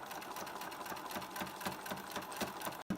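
Sewing machine stitching the seam of a chore jacket, a fast steady run of needle clatter close by with a brief pause near the end.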